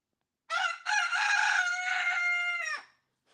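A rooster lets out one full, loud crow that lasts about two seconds, clear and close against a silent background.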